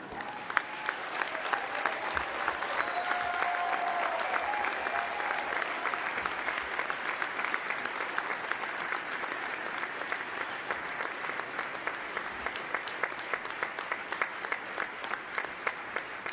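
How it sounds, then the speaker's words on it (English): Sustained audience applause at a 2011 graduate commencement ceremony at Bentley, a dense, steady wash of many hands clapping that holds for the whole stretch without letting up. "I would like you to acknowledge this sacrifice with a round of applause"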